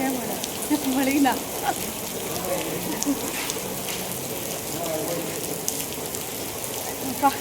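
Rain falls steadily at Jog Falls in Karnataka, making a dense, even hiss of drops with a few brighter patters scattered through it. The sound stays moderately loud from start to finish.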